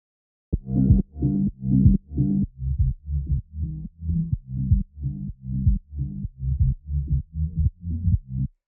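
A muffled, low-passed musical loop with a deep, rounded bass line pulsing in a steady rhythm, high end rolled off, no voices.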